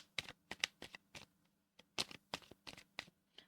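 Oracle cards are shuffled in quick bursts of soft, crisp riffling clicks, rhythmic with brief pauses, quiet and close.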